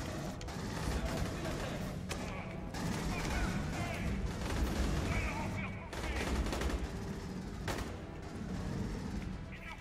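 Shotgun blasts and grenade launcher fire from Aliens: Colonial Marines form a dense, continuous roar of gunfire and explosions, with mechanical clatter and voices talking underneath throughout.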